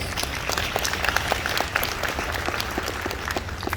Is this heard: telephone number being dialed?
no